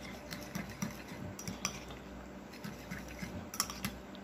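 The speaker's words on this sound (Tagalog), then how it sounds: "Haluin lang natin siya." A spoon scrapes and clinks against a pan while creamy salted egg shrimp is stirred. The taps and scrapes are quiet, irregular and close, with no talking.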